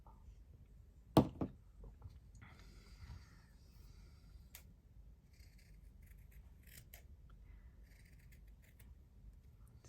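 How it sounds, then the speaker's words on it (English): Scissors snip through felted wool while a leaf shape is cut out, giving a couple of sharp, close cuts near the start followed by faint handling rustles in a quiet room. "cut my leaf shape around it"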